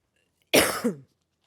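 A single short, rough cough close to the listener, ending in a throaty rasp, with silence before and after.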